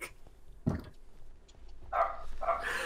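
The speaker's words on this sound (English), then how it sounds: "Oh, that's my dog." A pet dog barks a few times indoors, short sharp yelps near the end after a single earlier bark, fairly quiet and heard alone with no talking.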